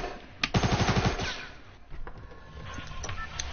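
Burst of rapid gunfire from a weak gun in Fortnite, about seven quick shots in a row, followed by quieter game sounds and faint scattered noises.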